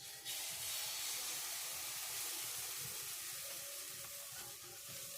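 Rice batter for chitol pitha sizzles in an oiled wok, giving a soft, steady hiss of frying that runs continuously at low volume without speech.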